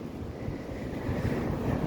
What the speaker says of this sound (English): sitting outside on the beach right now